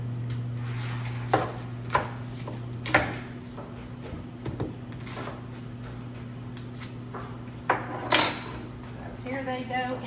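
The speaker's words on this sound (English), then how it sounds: "What's the trick not to cry when you're cutting onions?" A knife chops through onions with the skins still on against a cutting board, giving a handful of sharp, irregular knocks over a steady low hum, with soft clatter near the end.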